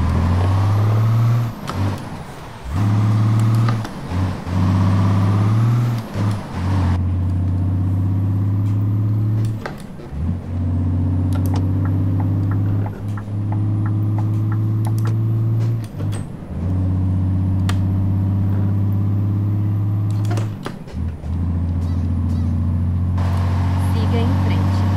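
Scania 142 truck in Euro Truck Simulator 2, a deep steady diesel engine drone that rises and falls with gear changes, loud and continuous, with air brake hisses at intervals.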